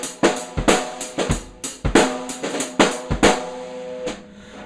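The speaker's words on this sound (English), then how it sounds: "the sticks are just basically just bouncing off the cymbal and bouncing off the snare drum" Loosely held drumsticks bounce off a cymbal and snare drum in a quick, uneven beat, about a dozen sharp ringing hits with shimmering cymbal decay, close and alone.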